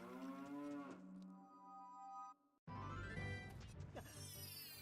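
Cow lowing in The Legend of Zelda: Ocarina of Time, two long loud moos separated by a brief silence, clear and alone with no talk.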